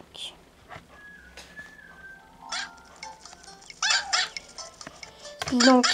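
Puppy yips and small barks from the Nintendogs + cats video game, short bright bursts near the end over quiet game music and sparse clicks.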